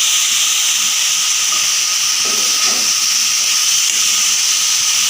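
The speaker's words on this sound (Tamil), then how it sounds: "எடுத்து வச்சுருந்துருக்க புதினாவை சேர்த்துக்கோங்க." Mint leaves sautéing in a hot pan for chutney, a loud, steady sizzling hiss that runs unbroken throughout, with no talk.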